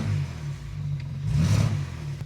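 A BMW 335i engine runs with a cylinder 3 misfire, a close, low uneven rumble that swells briefly as the revs rise, then settles.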